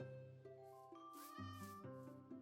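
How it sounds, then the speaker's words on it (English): A Minecraft cat meows several times in a row, a faint, tonal, wavering cry with rising and falling pitch, heard alone without talk. "I heard a cat."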